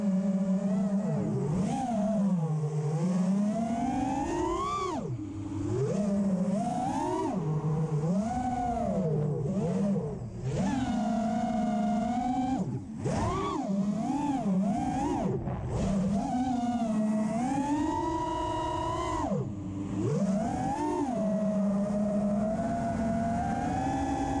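An FPV drone on Flywoo Nin brushless motors flies, its high motor whine rising and falling constantly as the throttle changes, loud and continuous throughout.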